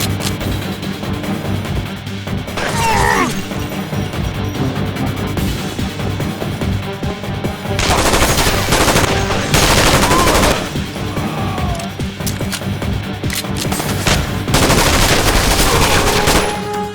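Gunfire from the PC shooter SAS Secure Tomorrow, loud and dense, with sustained automatic bursts and repeated bangs filling the whole stretch, heaviest in several surging volleys.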